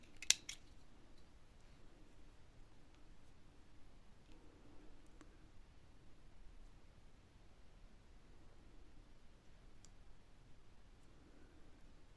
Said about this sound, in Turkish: son sık iğneyi yuvaya girdim kapattım ardından bir zincir çektim ipimi kesiyorum